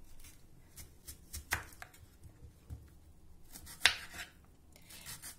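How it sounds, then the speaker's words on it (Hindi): Onions chopped with a knife on a board, a quiet run of close cuts and taps with two sharper knocks partway through, no voices. "अब हम प्याज को काट लेते हैं।"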